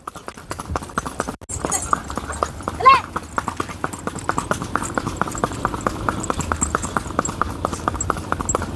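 A Sindhi mare walks with a brisk, steady clip-clop of hooves, close and continuous for several seconds, while people talk and urge her on nearby.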